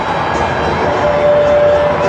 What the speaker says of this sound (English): finally we hear something from this crowd